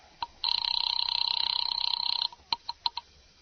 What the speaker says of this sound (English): Ringing Murray Hill 40098.